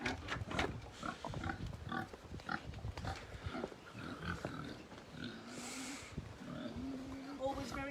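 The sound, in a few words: pigs grunting in a field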